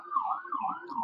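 A wavering emergency siren held steady through the clip, moderately loud and somewhat distant, with no voices.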